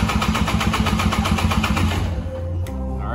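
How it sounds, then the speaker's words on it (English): An old two-stroke Polaris engine cranks over with the throttle held wide open for a compression test, giving a fast, loud, even chugging pulse for about two seconds that then stops and leaves a fading whir. "So hold your throttle wide open, crank it for a couple revolutions, about 5 seconds"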